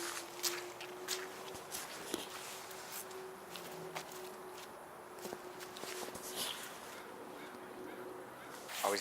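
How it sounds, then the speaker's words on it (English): Geese honk intermittently at a moderate distance, scattered calls over quiet outdoor ambience, with sharp footstep-like clicks and a faint steady tone running through. "Oh look, some geese."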